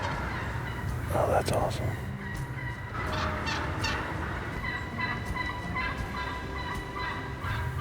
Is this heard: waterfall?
no